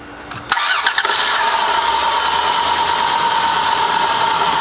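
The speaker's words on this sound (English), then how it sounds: "Okay, we got the starter in. Okay, fire up." The engine of a 2000–2003 Dodge Caravan cranks briefly with the newly replaced starter, then catches and settles into a steady, close idle hum with no talking.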